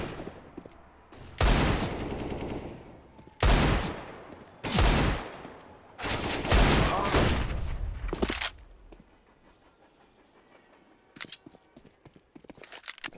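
Rapid pistol gunfire from a Counter-Strike-style tactical shooter match on the Train map, loud bursts of repeated shots in several clusters, followed by quieter scattered footsteps and faint clicks.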